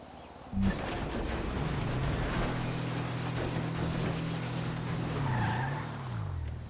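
A game vehicle pulls out of a garage, its engine droning steadily with a shifting pitch and a brief tire-squeal-like sweep near the end, loud and continuous with no talk.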